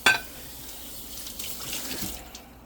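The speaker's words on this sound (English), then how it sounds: "just using some warm water to rinse it out" Warm water runs from a kitchen sink tap over a dish scrubber, rinsing out greasy residue; a steady, close hiss of flowing water with a brief splash at the start, no voices.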